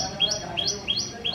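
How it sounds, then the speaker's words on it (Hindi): Birds chirp around a flowering bougainvillea plant, with four quick rising tweets repeating at a steady pace, fairly close and clear over a soft outdoor background. "चिड़िया की आवाज़ भी आ रही होगी आपको"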